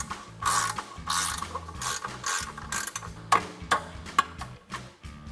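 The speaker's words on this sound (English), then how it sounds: "take a 17mm ratcheting wrench," A 17mm ratcheting wrench tightens a lower shock mount during a 0 to 3.5-inch ICON Vehicle Dynamics suspension lift install, giving loud, close bursts of rapid ratchet clicking with brief pauses between strokes.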